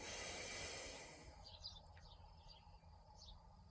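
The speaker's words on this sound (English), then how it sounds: "Listen to all the birds around me." A steady insect-like buzz fades out, leaving a few short, faint bird chirps scattered over quiet outdoor background.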